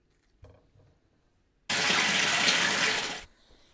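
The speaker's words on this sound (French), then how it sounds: "D'abord, il faut le rincer puisque tout le monde a mis ses mains dessus" A faint clatter, then a loud gush of tap water pouring over a cauliflower being rinsed, steady for about a second and a half before it cuts off sharply.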